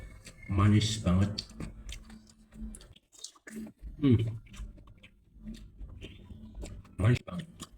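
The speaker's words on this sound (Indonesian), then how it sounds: "Makan sate ini sudah kenyang" Crunchy, very sweet satay being chewed, with several close, distinct bites and munching bursts that fall between stretches of talk.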